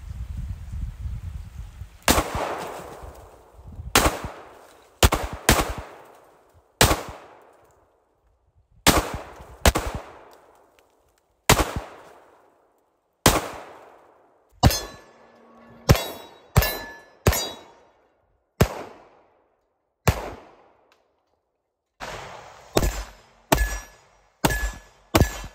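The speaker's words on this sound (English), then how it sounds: "Out shooting some ice." A Smith & Wesson M&P 45 full-size pistol is fired at ice outdoors, sharp loud single shots in an irregular sequence of about twenty, each cracking and ringing out into a fading echo, some with a clang of the hit.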